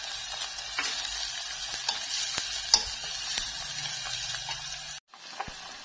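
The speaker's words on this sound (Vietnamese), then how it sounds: "Mình phi tỏi. Nhiều nhiều tỏi thì nó thơm nha các bạn. Cho sả vào luôn." Garlic and lemongrass frying in cooking oil in a pan: a steady, close hiss of sizzling with occasional ticks and pops of stirring, ending in a brief drop to near quiet before the sizzle returns faintly.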